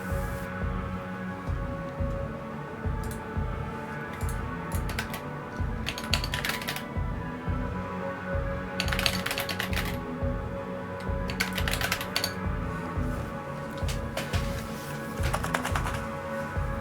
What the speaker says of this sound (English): curious about the sound of those switches, so I hit the buttons a few times